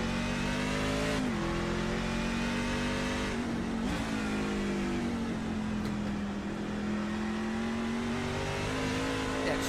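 A race truck engine in a racing video game, heard from onboard during a lap of the Charlotte Roval, drones loudly and steadily, its pitch dipping and climbing through shifts and corners with faint tire squeal.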